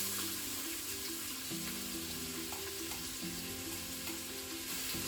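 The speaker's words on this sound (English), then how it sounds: "We now just want to give that a stir" Onion and pepper fry in a pan, a continuous soft sizzle with occasional light scrapes of stirring, quiet and close, over faint tonal background music.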